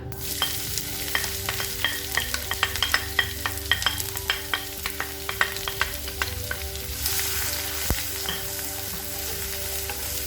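Crushed shallots, garlic and curry leaves sputter and sizzle in hot oil with popped mustard seeds, a steady fry broken by frequent sharp crackles and pops, with a stirring spoon scraping the pan and no voices.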